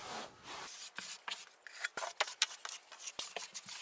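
A trowel scrapes thinset mortar off a surface and into a bucket in short, irregular scraping strokes, close up, with a few sharp clicks and knocks.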